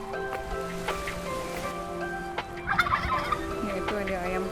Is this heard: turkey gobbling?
yes